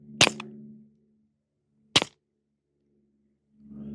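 Two sharp, close suppressed .22LR pistol shots cycle the slide, each a short crack with a quick mechanical follow-up and silence between, then a low hum at the end.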